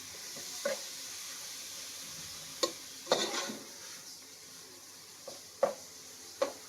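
Ground pork with bottle gourd cooks in a pan, giving a quiet, soft simmering hiss broken by several sharp clinks and scrapes of a utensil against the pan.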